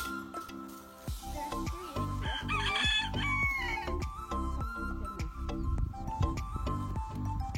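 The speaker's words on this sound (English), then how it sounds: "we had a chicken sitting on eggs who just hatched, or has at least 2 chicks hatched." Chickens on a farm, including a hen with newly hatched chicks, cluck and crow loudly and close in busy overlapping bursts, with a rooster's call rising in the middle and no talking.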